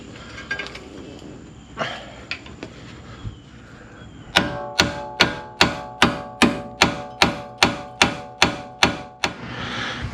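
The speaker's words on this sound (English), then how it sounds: "I take a hammer and I hit, I put tension on it, and I hit it right here by the ball joint" A hammer strikes a rusted ball joint on a Ford Fiesta or Focus, about a dozen loud, ringing metallic blows in a steady rhythm after a few scattered knocks and shop noise.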